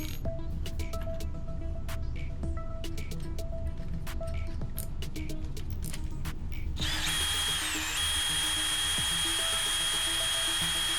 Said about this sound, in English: this is where I start drilling